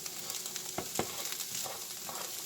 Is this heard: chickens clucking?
no